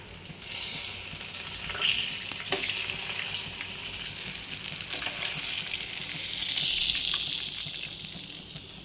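Mushrooms fry in a pan for masala mushroom fry, giving a continuous close sizzle with bubbling crackle that swells and eases, with a few light clicks of stirring and no talk.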